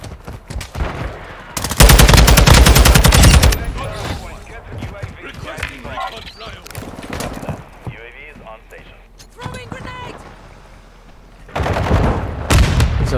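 TAQ-56 rifle gunfire in Modern Warfare 2: loud sustained automatic bursts near the start and again at the end, with someone talking in the quieter stretch between them.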